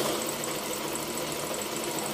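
A Janome N3000 sewing machine running a scallop stitch, a steady close mechanical whir with a fast even rattle that continues unbroken throughout.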